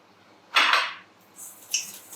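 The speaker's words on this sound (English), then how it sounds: "Give that a little whisk together in the bowl" A whisk clinking against a bowl while batter is mixed with soy milk, a couple of short metallic scrapes and taps, close and fairly loud, with no talking.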